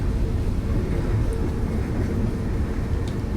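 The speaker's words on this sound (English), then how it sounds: "I didn't realize how much I missed the sound of that train." A train rumbling past in the video game A Bat in the Woods, a steady, loud low-pitched roar that holds evenly throughout, with no voices.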